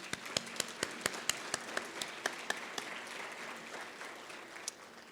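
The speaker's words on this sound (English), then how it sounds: "let's give them a round of applause" A charity event audience claps at a fairly low level, scattered sharp individual claps standing out over a softer wash of applause that thins toward the end.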